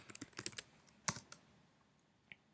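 Typing on a computer keyboard at a Kali Linux setup, a quick burst of soft close key clicks followed by a few scattered single keystrokes, quiet and without talk.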